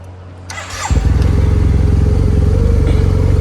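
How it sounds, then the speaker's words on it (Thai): A 2009 Yamaha TMAX scooter bored up to 560cc, fitted with a titanium Akrapovic exhaust, cranks briefly with a starter whir, then catches and settles into a loud, close, steady throbbing idle. "เดี๋ยวสตาร์ทให้ฟังเสียงเครื่องยนต์กันดู"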